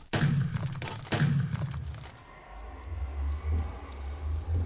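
Flash grenades set off as fireworks in a Minecraft mod-pack game: two loud, booming bangs about a second apart, followed by a quieter low rumble that swells and fades.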